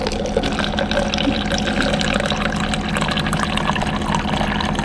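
Filtered water from a reverse-osmosis (RO) home water filter pours in a steady, close, continuous stream, as if filling a glass, with a constant liquid rush and no voices.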